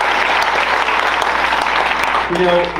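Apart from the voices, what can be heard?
audience applause at a town hall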